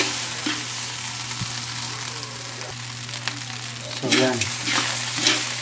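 Kapampangan fried rice sizzles and crackles steadily in a hot pan, with occasional scraping stirs, and a voice speaks briefly over the frying.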